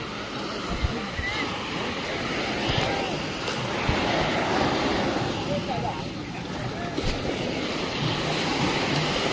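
Strong sea waves break along the shore near a fishing boat during a traditional rapan net-hauling festival on the Konkan coast, a loud, continuous rushing surf with wind buffeting and muffled voices underneath.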